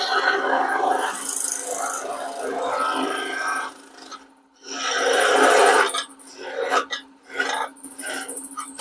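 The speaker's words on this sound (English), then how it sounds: "I think this is a great opportunity for the skew chisel." Steady scraping and rasping of a skew chisel cutting spinning wood while turning a garden dibble, continuous and close, with brief pauses between passes.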